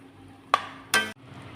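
Vegetable kuruma with coconut and cashews being stirred in a pot: two short scraping strokes of a spoon against the pot over a faint, steady simmer.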